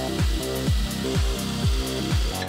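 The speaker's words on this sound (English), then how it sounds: "Drill a hole, put the rivet nut in, then we'll squeeze it tight" A power drill whines in short repeated bursts while drilling a hole in a van's metal body for a rivet nut, each burst rising and stopping, about five bursts close up with no talking.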